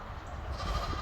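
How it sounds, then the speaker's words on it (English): Sheep bleating at a farm or small zoo, one short faint call over a low outdoor background rumble. "Man, I hear the sheeps over there."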